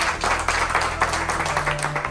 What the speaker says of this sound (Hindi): एक बार इनके लिए जोरदार ताली बजाओ यार